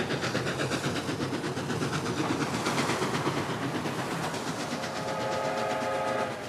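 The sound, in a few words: old locomotive pulling a Canadian train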